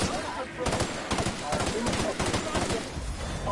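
Rapid automatic gunfire in the sci-fi video game The Outer Worlds, dense bursts of rattling shots layered over game sound and a talking voice.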